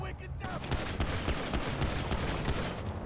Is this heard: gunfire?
yes